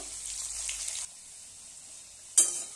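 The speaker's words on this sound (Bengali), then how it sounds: "আমি আলুগুলো আগে একটু লাল লাল করে ভেজে দিচ্ছি" Oil sizzles steadily as potatoes fry, a bright hiss that drops off partway through, followed by a single sharp clink or stir near the end.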